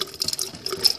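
Chitterlings rinsed under running tap water, with a brief close splashing trickle that has a busy, uneven texture.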